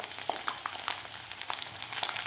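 Peanuts and crushed unpeeled garlic cloves frying in oil, a close crackling sizzle with sharp pops and spatters scattered throughout.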